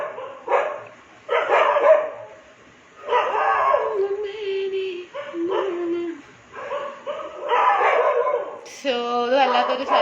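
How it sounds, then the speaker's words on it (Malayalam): Dogs nearby in Kerala, a pack of puppies among them, bark, yip and whine in repeated close bursts, ending with drawn-out howling whimpers, with a person's voice mixed in. "സോ ഈ നായ്ക്കളുടെ ശല്യം എന്താ ചെയ്യാൻ?"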